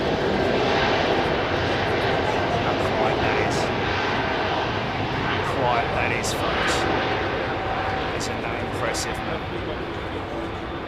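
An Airbus Beluga XL jet departs Heathrow Airport, its engines giving a steady, broad roar that holds loud for the whole stretch and eases off slightly toward the end, with faint voices now and then underneath.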